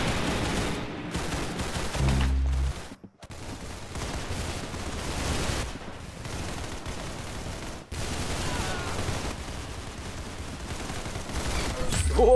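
Gunfire in the Roblox shooter Arsenal: dense, rapid shots and bursts crackle almost nonstop, loud and close, broken by a couple of brief pauses.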